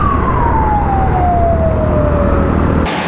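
A single ambulance siren tone sweeps slowly downward over a steady traffic rumble on a road in Nepal, then cuts off abruptly.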